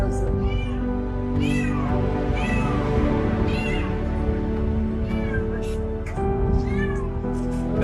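A rescued cat meows repeatedly in a run of clear, close calls spaced every second or so over a steady low background hum.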